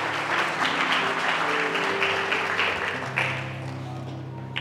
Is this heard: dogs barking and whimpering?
no